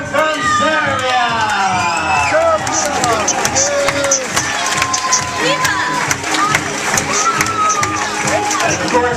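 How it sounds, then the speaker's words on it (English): A cruise ship audience cheers, whoops and applauds for the ship's restaurant manager. The dense, lively crowd noise carries on the whole time, with voices mixed in. "Please continue your applause for his excellent team of patrons"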